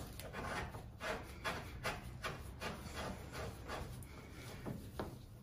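Fibre washers are snugged up on a threaded fitting of a Baxi boiler expansion vessel, giving a close, repeated scraping and rubbing of metal as the fitting is turned, in short rhythmic strokes with no talking.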